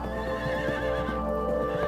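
A horse neighs with a drawn-out, wavering whinny over soft clip-clopping hooves, close and clear, with no voices.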